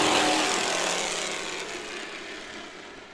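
Spec late model race cars at Irwindale Speedway roar past at the restart. A loud, broad engine rumble sweeps by and fades steadily over a few seconds, with no talk.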